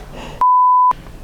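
A single steady censor beep, one pure tone of about half a second, cuts sharply into excited talk at a magic show and covers a swear word before the talk resumes.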